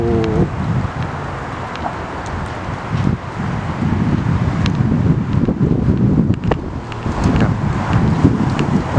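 Wind gusting through blooming cherry blossom trees in Newport News, Virginia, in 2021, a steady rushing roar with microphone buffeting and swells of louder gusts across the whole stretch.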